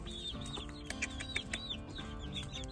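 Ameraucana hens cluck and chirp close by in a short burst of soft, overlapping calls, a steady busy chatter of several birds with no talk.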